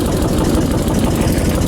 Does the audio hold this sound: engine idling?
yes